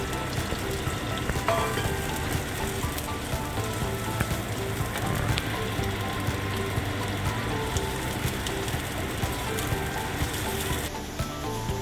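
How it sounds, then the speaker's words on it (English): Sambal chilli paste of freshly ground chillies sizzling in a pan, a steady dense crackle and spatter running continuously and fairly close, with no voices over it. "I'm going to fry it till it is cooked."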